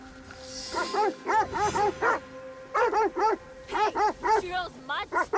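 A mutt in Assassin's Creed Shadows barks in repeated quick yips and bow-wows, in clusters of two or three with brief gaps, close and fairly loud over a faint game ambience.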